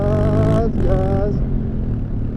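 A motorcycle engine revs hard as the rider opens the throttle approaching a hairpin bend on a twisty road, loud and close with rising and falling pitch under steady wind rumble.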